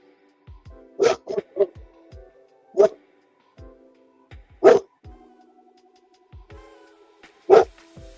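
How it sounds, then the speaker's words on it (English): Several sharp, close puppy barks and yips come in short bursts with pauses between, some quick doubles, over a quiet room with faint low thumps. "All right, we hear puppies."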